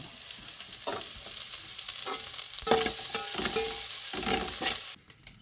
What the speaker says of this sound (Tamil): பச்சை மிளகாய் கருவேப்பில்லை கேரட்டு தேங்காய் எல்லாமே நல்லா வதங்கிட்டு